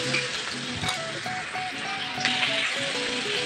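Chopped onion frying in a pan, a steady close sizzle with occasional clinks of stirring over a faint background tone.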